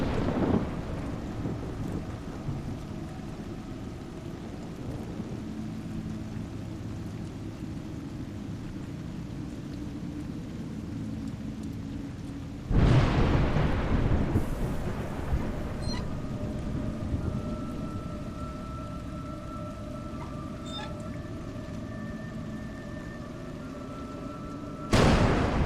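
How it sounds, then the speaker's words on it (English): Steady rain with a loud thunder crack about halfway through and another burst at the end, wind-like rumble throughout, no voices. "It's raining."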